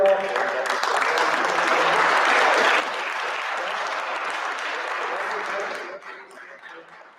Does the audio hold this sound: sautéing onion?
no